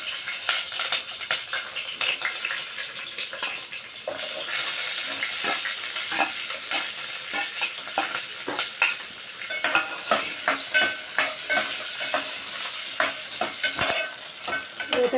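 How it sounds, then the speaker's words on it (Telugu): Chili and onion frying in hot oil in a pan for bagara rice, a steady bright sizzle with repeated stirring clicks and scrapes from a spoon running throughout, close and fairly loud, no voices. "ఇప్పుడైతే మిర్చి ఆనియన్ వేస్తున్నా."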